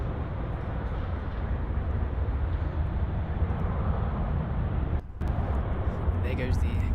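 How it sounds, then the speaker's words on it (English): A KLM Boeing 737-800 jet taking off at Munich Airport gives a continuous low, rumbling engine roar that holds steady from a distance, with a brief dropout and someone talking over it near the end. "And there goes the KLM 737-800 to Amsterdam."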